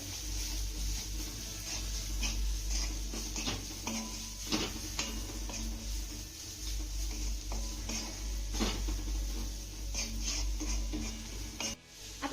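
A spoon scrapes and taps against a pan as spices are stirred into vegetables, making a steady run of clinks and rubbing scrapes over a low sizzle, with no talking.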